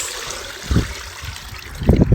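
Dissolved granular fertilizer solution pours into a container in two short splashing bursts, a trickling, gurgling liquid sound close by with quieter dribbling in between.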